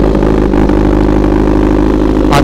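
A motorcycle engine runs loud and close, with a steady throbbing idle, a slight rise in revs and a brief higher burst at the end.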